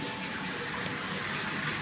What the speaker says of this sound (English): plenty of water flow.